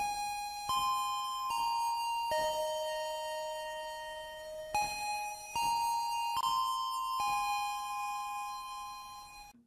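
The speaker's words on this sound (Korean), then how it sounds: "마지막 교시를 알리는 종소리가 울려 퍼졌다." A school bell signals the last class with a sequence of clear, ringing chime tones, each struck note sustaining and overlapping into a melodic ding-dong pattern for nearly ten seconds.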